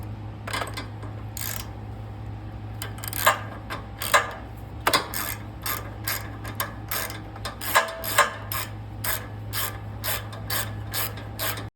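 A ratchet wrench clicks in quick bursts of sharp ratcheting while removing the spark plug from a Yamaha MZ175 engine, the clicks close and crisp over a low background hum, with short pauses between strokes.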